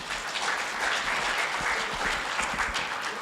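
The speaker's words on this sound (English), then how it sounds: "We really need an applaud for that" Sustained applause from a conference audience at a women entrepreneurs' event, steady dense clapping filling the room for the whole stretch without pause.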